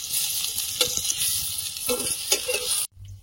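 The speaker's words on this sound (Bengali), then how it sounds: "পটলগুলো ভাজা হয়েছে, তুলে নেব।" Pointed gourd (potol) frying in hot oil, a loud close sizzle with occasional bursts of spattering, cutting off abruptly near the end.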